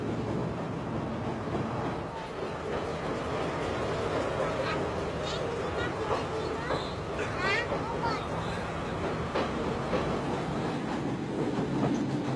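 A train in the Sri Lankan hill country rolls along the rails with a continuous rumbling clatter, occasional higher squeals and rattles cutting through the steady drone.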